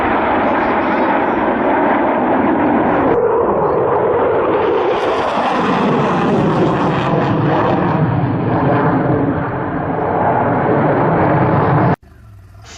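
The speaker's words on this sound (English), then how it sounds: "Midland Air Festival at Ragley Hall with the Red Arrows and the superb RAF Typhoon jet" Red Arrows jets and an RAF Typhoon at the Midland Air Festival at Ragley Hall make a loud, sustained roar that swells and shifts in pitch as they pass, then cuts off sharply near the end.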